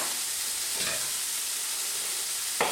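Beef browns in a hot pan for rendang, giving a steady, close hissing sizzle with two brief louder spatters, one near the start and one near the end, with no talk.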